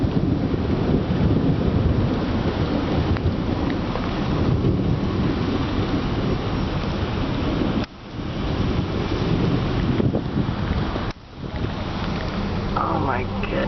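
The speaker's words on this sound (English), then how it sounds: "It's still thundering again." Heavy wind and rumbling thunder roll on almost without a break during a tornado storm in Kingsport, Tennessee, loud and close, with a couple of short drops, and people talk over the noise.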